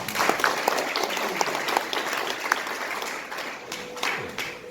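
A church congregation applauds at an Easter service in Jakarta, a dense, steady round of clapping with sharp individual claps standing out, fading slightly toward the end.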